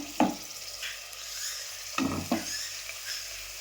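Green chillies and curry leaves fry in a pan for Udupi-style mutton curry, giving a soft steady sizzle with a few sharp clinks of a spoon against the pan, no voices present.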